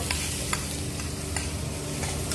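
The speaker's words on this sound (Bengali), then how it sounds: "এখন আমি এই যে যে পাম্পিনগুলা দিয়ে একটু ভেজে নিব" Pumpkin pieces frying in melted butter in a pan, a dense close sizzle with a few brief scraping stir strokes, steady and alone.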